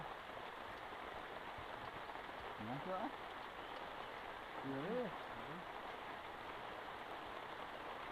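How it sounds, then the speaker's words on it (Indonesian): Steady rain falls in a garden at a rural hut in Bali, a continuous dense hiss of drops on surfaces, with brief quiet speech in the background. "Hujan. Hujan kawan-kawan."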